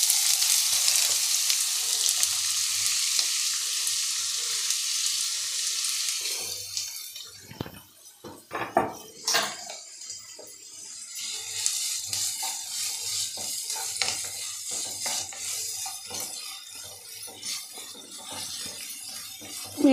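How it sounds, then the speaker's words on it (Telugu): Onions frying in oil for a prawn curry, a loud broadband sizzle that thins briefly mid-way with a few sharp stirring clicks before the steady frying returns, no voices. "లైట్ బ్రౌన్ కలర్లో వచ్చే వరకు ఆనియన్స్ వేపుకోవాలి"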